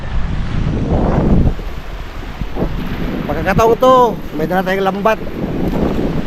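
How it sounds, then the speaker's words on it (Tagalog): Strong wind buffets the microphone at a river mouth opening onto the sea, a steady roaring rumble throughout, with a voice speaking over it partway through. "Lakas po ng hangin."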